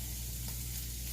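Vegetable medley simmering in a covered pan, a steady soft sizzle and bubbling hiss that holds evenly throughout, close and moderately quiet with no talk.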